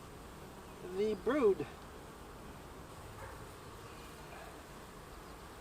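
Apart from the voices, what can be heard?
honey bees buzzing in open hive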